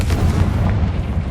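A booming spell explosion from Hogwarts Legacy, a short loud dense blast of rumbling noise filling the whole moment.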